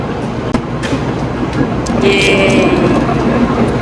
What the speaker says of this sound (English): are waiting for this bullet train.